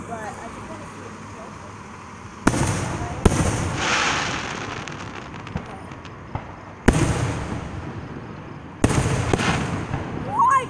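Several sharp fireworks bursts crack out at irregular intervals, each followed by a crackling fizz, with a quiet background murmur between them.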